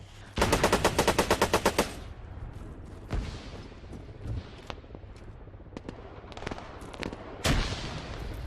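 7.62 rifle fire in the game Arma 3, shooting toward a wall: a rapid burst of about a dozen loud, sharp shots, then scattered single cracks and distant pops with echoing tails.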